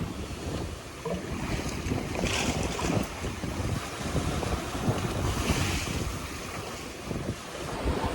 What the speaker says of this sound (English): I feel like the wind is kind of easing out. The waves are just as big